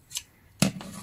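Two quick scissor snips through packaging material, a light one followed by a sharper, louder cut, with no talking.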